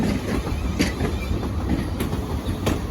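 Two British Rail Class 450 electric trains pass near Battersea Park, giving a steady close rumble with periodic rhythmic wheel clicks over the rails.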